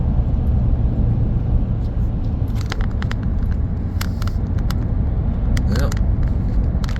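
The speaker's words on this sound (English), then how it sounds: "Drop my truck down into fourth gear" A pickup truck cruises in fourth gear along a road near Okanagan, Washington, with a steady low engine and road rumble throughout, and someone speaks over it in the second half.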